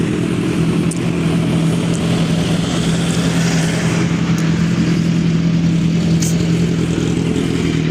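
A motor vehicle engine, likely a motorcycle, drones steadily on a road in the Philippines en route to Malvar, Batangas, a continuous close mid-pitched hum with no speech.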